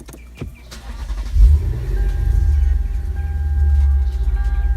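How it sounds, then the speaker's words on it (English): A Lexus IS-F engine cranks briefly, catches, and settles into a steady low idle, close by, with a faint whine in the background. "Let's go ahead and turn on the car."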